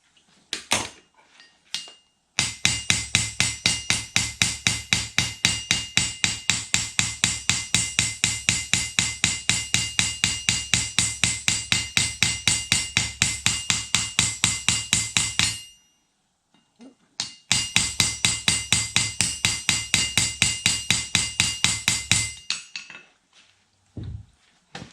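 Rapid, evenly spaced metallic hammer blows ring out on the piston and rod of a 3/4 HP IHC air-cooled engine being modified, in two long, loud runs of steady tapping with a short pause between.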